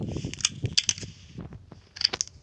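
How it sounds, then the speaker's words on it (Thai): A gun is reloaded in a Roblox video game: a quick sequence of small metallic clicks and clacks in two clusters, with bright, ringing ticks, close and moderately loud, and no one speaking over it. "ชอบเสียงรีโหลดจังเลย"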